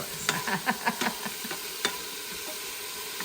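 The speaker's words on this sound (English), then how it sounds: "we're just gonna let those saute for just until they're soft" Vegetables sauté in a multicooker pot while preparing a vegan split pea soup. A spoon stirs and scrapes through them in a quick series of close clicks and scuffs, with a soft, steady sizzle running underneath.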